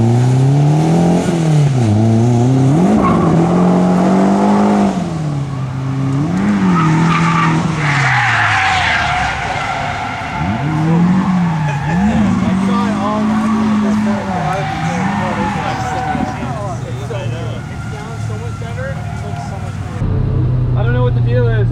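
A rear-wheel-drive Honda Civic on a race track during a shakedown run, engine loudly revving up and down through gears with rising and falling pitch, tires squealing, heard from inside the car with a voice talking over it.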